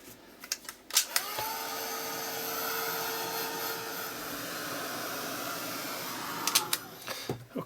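A handheld dryer blows air onto a painted art journal page, a steady whooshing hum lasting several seconds between clicks and handling noises at the start and end, with no talk.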